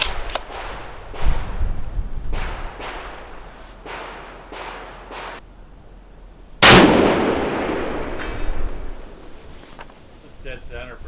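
A rifle fires at a steel target on an elk hunt prep range in heavy wind: one loud sharp crack about two-thirds of the way through with a ringing tail, after gusty wind buffeting and brief voices.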